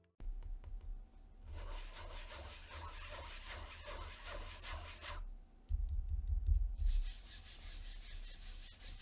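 A gaming mouse sliding back and forth across a Lamzu Energon mousepad, a soft, quiet rubbing swish in two long close-up strokes separated by a short pause.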